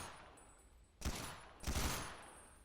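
Two short bursts of UMP submachine-gun fire from a first-person view in the survival game XERA Survival, loud close cracks with rattling tails, no speech.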